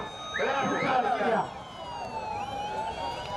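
An ambulance siren wails in rising and falling sweeps at a Tamil manjuvirattu bull-taming event outdoors, with a loud voice talking over the first part before the siren carries on alone at moderate distance.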